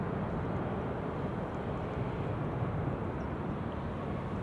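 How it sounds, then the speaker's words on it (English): A Boeing 747 airliner on the center runway at Schiphol after landing, a deep, broad, steady jet rumble at moderate distance that stays constant throughout, with no voices. "That 747 just landed on center."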